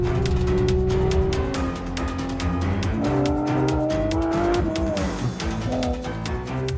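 Porsche 911 GT3 with rear engine and 500 hp accelerating hard out of a tight hairpin, its engine note climbing in rising pitch steps through the gears, loud and close throughout with a brief tyre squeal.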